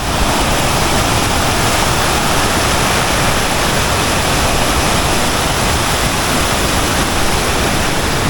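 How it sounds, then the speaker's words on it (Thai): Kuang Si waterfall in Laos, swollen after a flood, roars as a loud, constant broadband rush of falling water that stays unbroken throughout. "น้ำตกตาดกวงสีเพราะว่า เป็นน้ำตกธรรมชาติ"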